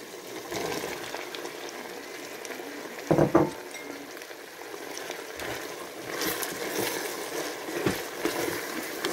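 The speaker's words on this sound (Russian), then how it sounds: "Сейчас немножко прожарим с морковкой" Carrots and meat sizzle in a multicooker while being browned for plov, a soft steady frying hiss with occasional clinks and stirring scrapes, fairly quiet and with no talk.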